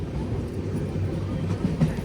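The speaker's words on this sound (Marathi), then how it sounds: "ट्रेन बघ ती अशी." A passing train gives a steady, loud, low rumble of rolling wagons that lasts throughout, with no voices.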